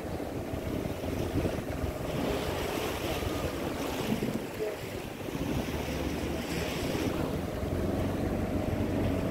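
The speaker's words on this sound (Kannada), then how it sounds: "ಇಲ್ಲಿ ಅಲೆಗಳ ಹೊಡೆತ ವಿಪರೀತ ಇದೆ" Rough sea waves pound a boat heading out from a fishing harbour at Koderi, a steady heavy wash and rumble of water with wind noise, continuous and fairly close, with no talking.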